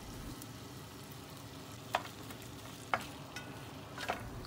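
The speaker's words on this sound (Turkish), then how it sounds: "Doğradığım soğan ve sarımsakları ekliyorum." Chopped onion and garlic sauté in butter, a steady quiet sizzle with a few sharp stirring clinks of a spoon against the pan.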